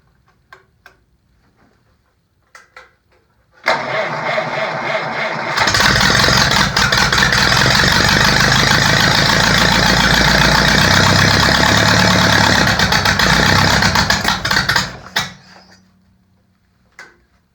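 An Oliver 60 tractor engine cranks over with a grinding starter, catches and fires, then runs at a loud, close, steady chugging idle for about ten seconds before the key is shut off and it dies away.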